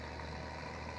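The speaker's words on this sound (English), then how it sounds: "This is a little tractor." A small tractor's engine idling in Farming Simulator 2017, a steady, low continuous hum that stays even from start to finish.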